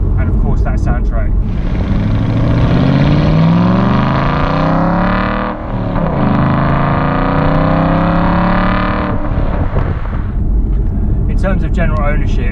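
A 2007 Aston Martin V8 Vantage Roadster's V8 engine revs hard, pitch climbing through a gear, dipping briefly at a shift, then climbing again before dropping off; loud, close and continuous.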